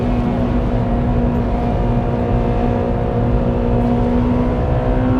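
A Honda Civic Type R EP3 engine holding a steady, buzzing drone with a strong hum and rough low rumble, close and constant throughout, no voices.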